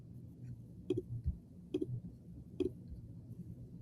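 Three crisp computer mouse clicks at a steady pace, close and fairly quiet, over a soft low room hum with no talking.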